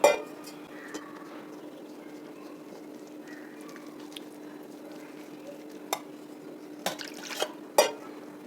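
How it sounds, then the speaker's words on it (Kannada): Dosa premix batter with water and salt being stirred in a bowl, quiet wet sloshing and scraping under a steady low hum, with a few sharper spoon knocks toward the end. "ಈಗ ನೀರು ಹಾಕ್ಕೊಂಡು ಸ್ವಲ್ಪನೇ ನೀರು ಹಾಕ್ಕೊಂಡು ಗಂಟು ಇಲ್ಲದೆ ಇರೋಂಗೆ ಕಲಿಸ್ಬೇಕು"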